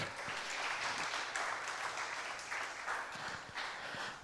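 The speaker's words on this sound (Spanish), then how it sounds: "Dale un aplauso al Señor si lo puedes creer." Church congregation applauding during a Spanish-language sermon, a continuous, fairly faint spread of many hands clapping that rises and falls slightly, heard alone without talk.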